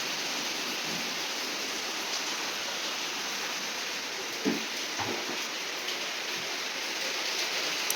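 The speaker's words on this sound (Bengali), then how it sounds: "বন্ধুরা কি বৃষ্টি পড়ছে" A heavy downpour hisses steadily without pause, broad and enveloping, with a few louder drops or knocks standing out now and then.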